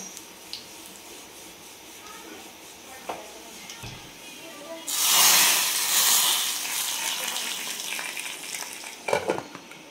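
Dal tadka tempering with cut chillies dropped into hot oil in a pan, starting with quiet clinks and stirring before a loud burst of crackling sizzle that gradually settles, with a few utensil knocks near the end.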